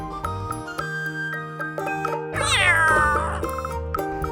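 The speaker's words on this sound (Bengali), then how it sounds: "20টার মতো বিড়ালের আস্তানা এখানে" Cats in Capawcino, a cat cafe in Bangladesh that houses about twenty cats: a clear, drawn-out meow rises midway over quiet room sounds with steady tonal hums and faint tinkles.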